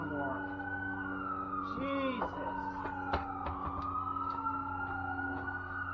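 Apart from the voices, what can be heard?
many emergency sirens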